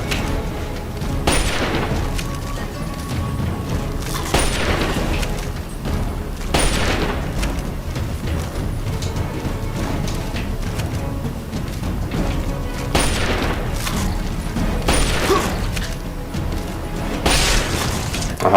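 Rifle fire aimed at Mirelurks in Fallout 3's Point Lookout DLC: heavy booming shots, single or in short bursts, land every couple of seconds over a constant rumble of game ambience.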